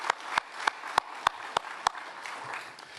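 Sparse applause at a downtown annual meeting: a handful of sharp, evenly spaced claps about every third of a second, fading into a faint scatter of softer clapping.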